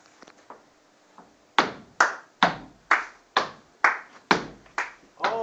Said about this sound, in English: There's a stomp part and a clapping part.